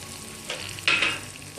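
Green chillies sizzle in chicken karahi, a short, loud burst of hissing fry that swells sharply partway through over a steady background crackle.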